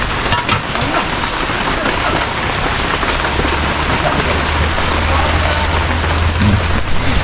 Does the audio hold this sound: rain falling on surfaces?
yes